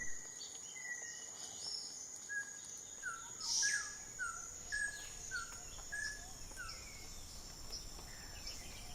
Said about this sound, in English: Endemic to Costa Rica, the black-cheeked ant tanager inhabits this forest of the Gulf Shore and the Osa